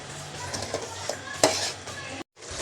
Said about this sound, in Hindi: अब हम इस मिक्सचर की अच्छे तरीके से भुनाई करेंगे